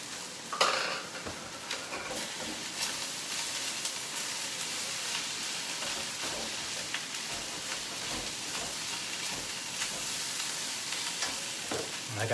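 Chicken thigh egg fried rice with spring onions stir-frying in a hot pan: steady loud sizzle broken by frequent scrapes and clinks of a utensil against the pan, with no talking.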